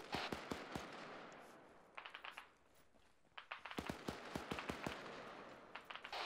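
Bursts of rapid gunfire in the military shooter ArmA 3, with clusters of sharp shots and short volleys separated by brief pauses, some nearer and louder, others more distant.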